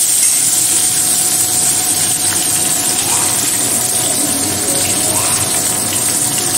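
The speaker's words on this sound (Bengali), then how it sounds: "চেরা কাঁচা লঙ্কাটা দিয়ে আর একটু ভেজে" Potatoes and slit green chillies fry in hot oil, producing a loud, even, unbroken sizzle with no talking.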